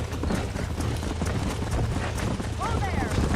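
Rhythmic hoofbeats of horses clip-clopping along in Red Dead Redemption on PS3, steady and fairly close, mixed with other game sounds and a voice talking over them.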